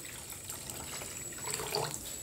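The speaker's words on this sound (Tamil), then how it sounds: "தண்ணி ஊற்றி நல்லா அலசிக்கணும்." Chicken pieces being washed in water with turmeric, faint splashing and trickling close by, swelling slightly toward the end, with no speech.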